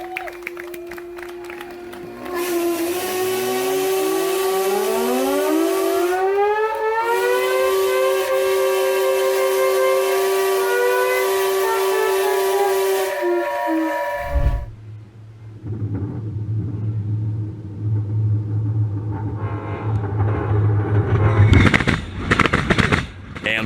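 A Swanage Railway steam engine gives a loud, sustained whistle whose pitch slides and holds for over ten seconds, then breaks off into a low rumble with crowd noise and cheering rising near the end.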